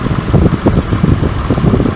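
A 2008 Infiniti M45 V8 idles quietly and steadily nearby with a low, even rumble, heard alone for a couple of seconds.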